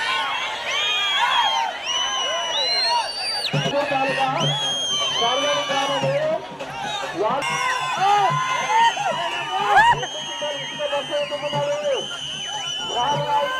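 A large outdoor crowd cheers, whoops and whistles with bursts of clapping, loud and sustained over a dense babble of voices, at a public strength show where a man lifts a 200 kg sand sack and a 220 kg stone ball.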